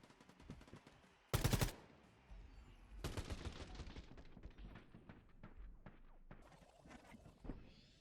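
Gunfire in the multiplayer shooter Quantum League: rapid bursts of shots with a loud blast near the start, another heavy volley at three seconds, then scattered lighter shots and thuds continuing throughout.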